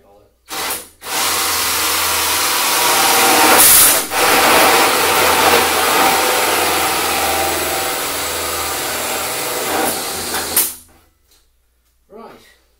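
Power drill boring a hole into wood, a loud continuous whine lasting about ten seconds with a brief pause near the start and a short dip midway, then stopping abruptly into near silence with faint handling.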